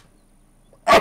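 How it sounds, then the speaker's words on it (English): A man sneezes once, a sudden loud burst at the very end after near silence, during a War Z gaming session. "Oh, hold on. I'm going to sneeze."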